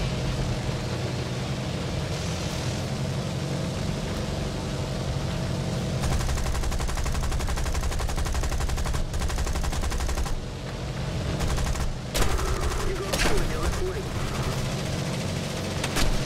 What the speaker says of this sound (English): Taking AA fire